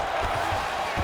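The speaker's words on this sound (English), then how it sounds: "the crowd pops in appreciation as the fighters work their way back to the field" Crowd noise from the arena in the EA Sports UFC 5 fighting game, a steady broad roar of cheering that holds evenly through the short stretch with no distinct voices standing out.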